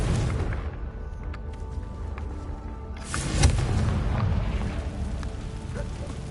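A Confringo fire spell bursts in the video game Hogwarts Legacy, a single sharp boom landing mid-clip over a steady rumbling game soundscape, with low ambient noise continuing before and after.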